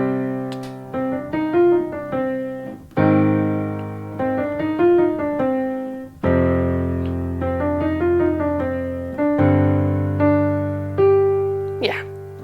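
Piano plays the first line of a beginner lesson piece with semiquavers: a clear, close melody of repeated right-hand notes over sustained chords, in four phrases with a short pause between each, and no talking.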